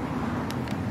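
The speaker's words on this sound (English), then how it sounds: "you're picking up a hell of a lot of traffic noise" Steady broadband road traffic noise on a street in Khmelnitskyi, Ukraine, a continuous low rumble with wind buffeting the microphone, plus two brief high hissing bursts passing through, no voices.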